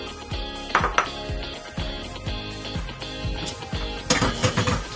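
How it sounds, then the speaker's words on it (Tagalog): Squeezed radish filling for Chinese-style embutido being mixed in a bowl, with a quick run of close clinks and knocks of a utensil against the dish, irregular and moderately loud, no one talking. "ihalo na natin ating radish o yung labanos na piniga"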